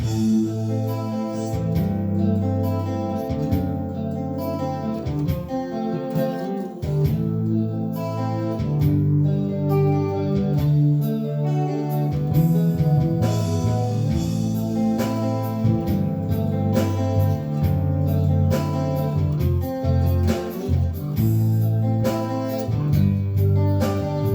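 Guitar jams over a full backing track with steady drums and bass, a continuous groove running without pause.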